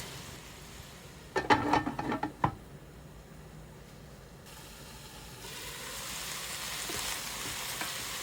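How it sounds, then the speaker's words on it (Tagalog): Cabbage sautés in a pan for pancit canton guisado, heard as a low sizzle that follows a short burst of clattering utensil knocks and a scrape, then a hiss that grows steadier and louder toward the end. "maglagay na tayo dito ng repolyo. Gisa lang natin yan saglit"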